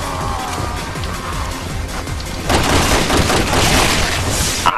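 Sustained gunfire in the zombie shooter Resident Evil 6, a dense rapid stream of shots that gets louder and busier halfway through, with a dull booming undertone and game noise behind it.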